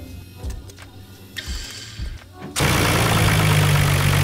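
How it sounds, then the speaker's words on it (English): Faint clicks and clanks give way as a Nissan Skyline GT-R's RB26DETT engine cranks and catches after an oil change, then settles into a loud, steady idle. "Let the engine run for a little bit."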